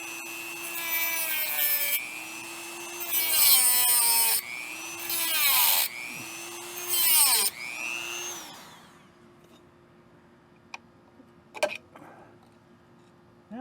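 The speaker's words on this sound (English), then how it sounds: "So I'm just gonna use a Dremel on them." A Dremel cuts rusted parking-brake drum parts on a Jeep TJ, its high whine rising and falling through about five bursts of grinding, then going quiet with a few sharp clinks near the end.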